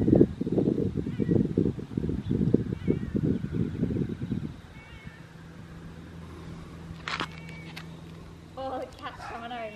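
A cat meows a few times, sharp and close, near the end after a stretch of people talking and a quieter pause.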